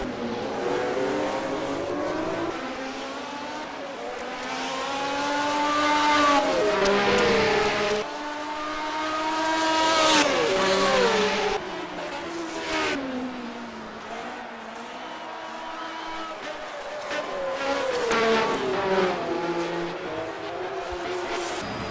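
A race car in a 2019 HSO Gold Star round at the Argentine Grand Prix drives hard out of a corner, its engine wailing up through the revs in repeated loud climbs between gear changes, with no talk over it.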